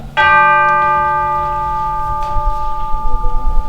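A single clear clock bell strikes one during a stage play of A Christmas Carol, with a sharp ringing onset whose tone decays slowly over a few seconds in a quiet room.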